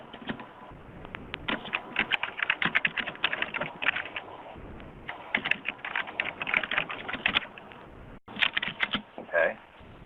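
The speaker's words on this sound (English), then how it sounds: "then under 8B, we'll type in additional information" Rapid clicking of computer keyboard keys in irregular bursts, close and fairly crisp, with short pauses between runs of keystrokes.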